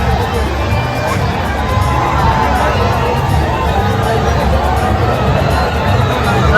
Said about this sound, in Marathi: बघतात भरपूर गर्दी आहे म्हणजे भयानक गर्दी आहे